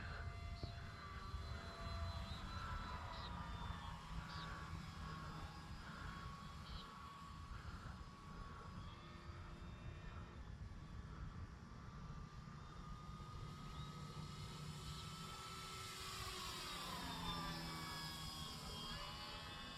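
A small propeller-driven OMP Super Decathlon scale RC model plane drones overhead, its buzzing engine pitch rising and falling as it passes, fairly faint against outdoor background noise.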